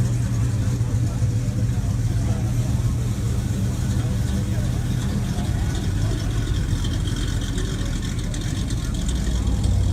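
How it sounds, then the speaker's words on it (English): A Chevelle and then a 1939 Ford Coupe rumble past at a car show outside a Huntington Beach donut shop. The engine noise is loud and steady throughout, with faint voices in the background. "Chevelle followed by a 39 Ford Coupe."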